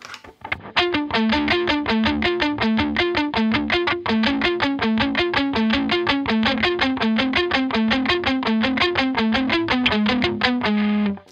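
A distorted electric guitar plays a steady, repeating riff of rapid picked notes without echo, continuous and loud for the whole stretch.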